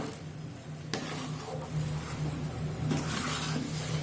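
Spoon stirring semolina and milk halwa cooking in ghee, soft scraping strokes with a gentle sizzle underneath, a few sharper scrapes at intervals, close and fairly quiet.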